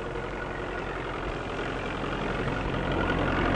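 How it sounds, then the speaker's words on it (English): Tractor engine hauling a four-furrow plough across a field, a steady low mechanical drone that holds even and continuous throughout with no voices. "A four-furrow tractor-drawn plough can plough up 8 acres a day"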